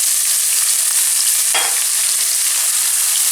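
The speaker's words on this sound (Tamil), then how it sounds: "இப்போ அது கூட பார்த்திங்கன்னா பொடியாக நறுக்கி வச்சுருக்கிற வெங்காயத்தையும் பூண்டும் சேர்த்துக்கிறேன்." Chopped onion and garlic fry with fennel seeds in a pan for home-style chicken Hakka noodles, giving a steady, loud, close sizzle with a single stirring scrape partway through.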